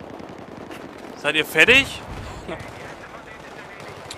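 Gunfire bursts in the multiplayer video game Battlefield 3, a cluster of rapid, loud automatic shots lasting about a second, with players talking in German before and around it.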